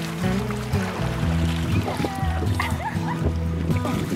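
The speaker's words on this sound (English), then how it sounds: "He's barking at the stump." A Maltipoo barking during a wilderness camping trip, short repeated barks and growls outdoors in the woods, sounding over steady background noise while people talk nearby.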